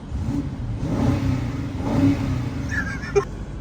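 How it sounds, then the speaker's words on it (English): A 2022 BMW X5 M50i SUV engine revs up twice in smooth, rising swells, moderately loud, followed by a short click. "And the engine noise."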